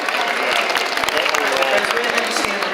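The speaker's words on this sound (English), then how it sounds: "Let's give them a big round of applause" Spectators at a land and water dolphin show in Chicago clap together in a dense, steady burst of applause that holds at an even level throughout, with some crowd murmur underneath.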